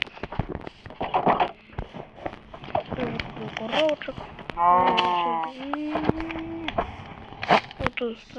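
A cow moos several times on a farm, with long, drawn-out calls close by, while people talk over and between the lowing.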